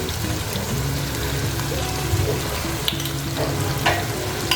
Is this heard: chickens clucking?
no